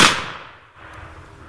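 A single gun blast from a blank load of 90 grains at an outdoor mountain man gathering, one sharp loud crack at the start followed by a fading, rumbling decay into quiet background.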